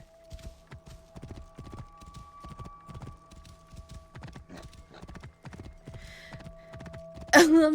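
Hooves clip-clop in a quick, steady rhythm close by in the video game Assassin's Creed Origins, ending with a horse's loud whinny.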